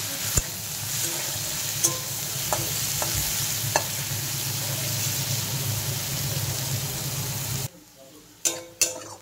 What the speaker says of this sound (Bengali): পেঁয়াজটা হালকা করে ভেজে নেব লাল লাল করে।